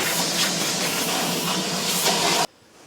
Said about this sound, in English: I am going to take a shop vac and vacuum up all the dog